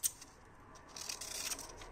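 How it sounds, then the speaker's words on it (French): Scissors snip through paper strips for a craft album, one sharp close cut followed by a rougher sliding snip and rustle of the paper. "ciseaux."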